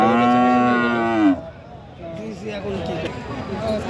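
A cow at a cattle market lets out a loud, close, drawn-out moo that ends abruptly. Market chatter and voices follow underneath.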